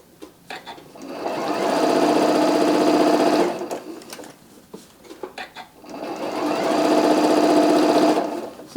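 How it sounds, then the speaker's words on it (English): A sewing machine stitches around a curvy bag made from a template, running in two long steady bursts with a brief pause between, loud and close, no one speaking. "this is probably about 1/2 of an inch that I'm sewing right now all the way around"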